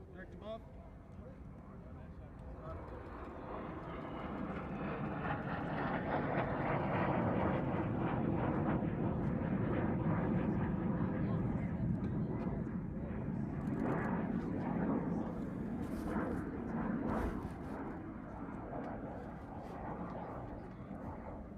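An aircraft at the Cleveland Ohio air show passes directly overhead, its engine roar building into a broad, loud rush that peaks midway and slowly fades, with people chatting in the crowd throughout.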